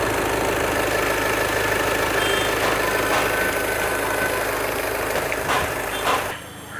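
A VW Jetta with a fault that keeps its cooling fans on all the time idles steadily, with a continuous engine and fan whir filling the clip before the sound drops away near the end.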